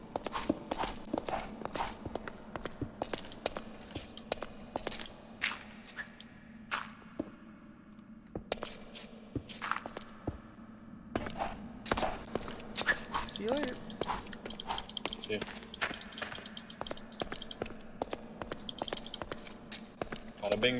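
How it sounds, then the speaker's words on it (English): Footsteps walk across blocks in modded Minecraft RLcraft, tapping quickly and steadily through the whole stretch with a brief lull in the middle, under game sounds and a voice talking. "I really hate the sound of my footsteps."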